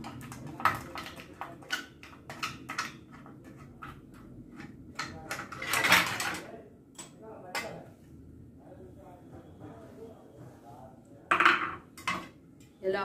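Metal clatter and clinks from a washed idli steamer stand being handled in a home kitchen, several sharp knocks standing out over a low background hum and scattered movement.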